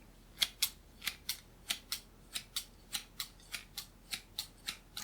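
Scissors snip steadily in an ASMR hair salon roleplay, about sixteen crisp, close, quiet cuts falling in an even rhythm, mostly in pairs, with no talking.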